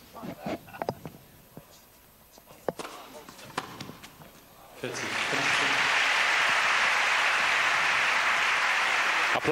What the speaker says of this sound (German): Applaus vom Gegner